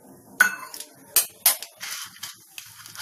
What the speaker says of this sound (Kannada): ಎಣ್ಣೆ ಕಾದ ನಂತರ ಸಾಸಿವೆ ಹಾಕೊಳ್ತಾ ಇದ್ದೀನಿ